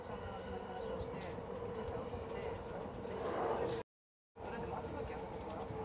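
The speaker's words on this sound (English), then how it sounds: "it's crazy how quick the train ride is" Rumble and rattle of a Tokyo commuter train riding between Shinjuku and Shin-Okubo, a steady loud interior roar with a brief drop to silence before resuming.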